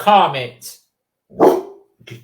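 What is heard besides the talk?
dog barking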